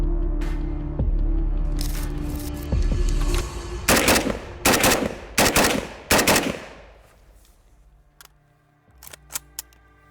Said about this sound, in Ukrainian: Тільки що я зняв стандартний ДГК і спробував постріляти в темпі, щоб подивитися, яке буде розкидання куль